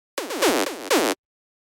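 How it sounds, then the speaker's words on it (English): Synthesized zap sound built from a saw wave with a falling pitch envelope, four bright buzzy bursts in a quick uneven rhythm, each sweeping downward, loud and close with no voices. "The next sound we have here are the zaps"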